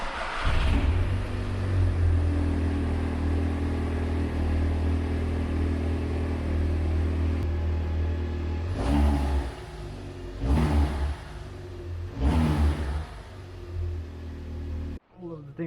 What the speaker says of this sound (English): I just wanted to show you a quick video of how the car sounds stock